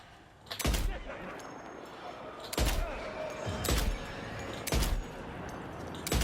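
Four heavy sniper rifle shots ring out in Death Stranding 2, spaced a second or two apart, each a loud close boom with a short tail, with a voice talking in between.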